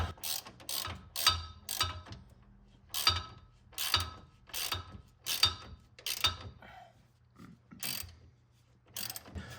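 A ratchet wrench tightens bolts on the front lift strut plates of a 2007-2018 Chevrolet Silverado. It makes short bursts of rapid clicking, repeated about ten times at close range, with no talk.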